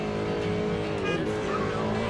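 Race car engine in the video game Ocean City Racing drones steadily at a constant pitch, with a brief tire squeal midway through, played in a bumper-car crashing style.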